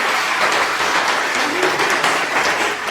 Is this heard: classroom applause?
yes